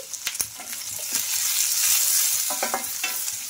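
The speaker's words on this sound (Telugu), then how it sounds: "ఇంకా ఈ సాల్ట్ కూడా వేసేసుకొని బాగా కలిపేసుకోవాలి." Salted vegetables sizzle in a pan while being stirred, with close, brisk scrapes and knocks of the spoon over a constant frying hiss, short and without voices.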